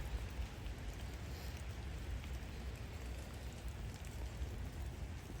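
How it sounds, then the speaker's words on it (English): Steady rain falls outdoors, a dense, even hiss of drops on surfaces that holds at a constant level throughout, with no voices. "it's still raining, guys. It's raining as we speak."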